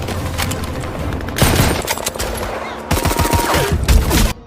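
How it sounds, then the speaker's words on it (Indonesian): Bursts of automatic machine gun fire crackle through a battle scene, rapid sustained volleys close and loud, with heavier gunfire and dense rattling overlapping throughout. "Sersan Abel terkena tembakan musuh lebih dulu"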